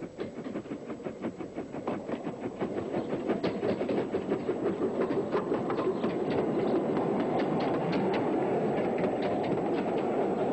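A 15-inch scale steam locomotive named The Bug runs along a miniature railway, its rapid chuffing beats blending with wheel clatter into a steady, rhythmic rumble that grows louder as it approaches and stays close.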